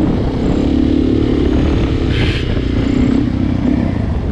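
A Suzuki DRZ400E dirt bike rides in second gear with a steady, loud engine drone and some clatter, held at an even pitch throughout, close by and with no talk.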